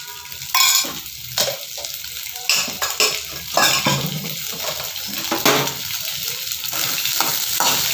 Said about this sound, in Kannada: ಚೆನ್ನಾಗಿ ಹುರ್ಕೋಬೇಕಾಗುತ್ತೆ, ಚೆನ್ನಾಗಿ ಬೆಂಡೆಕಾಯಿನ